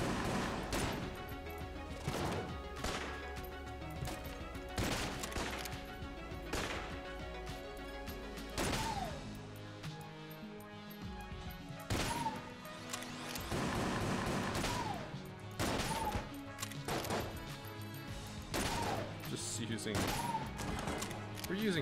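Bursts of gunfire from an absurd weapon in the game Enter the Gungeon, with rapid repeated shots, crashes and impacts over game music. The bursts are dense and loud through most of the stretch, with a brief lull in the middle.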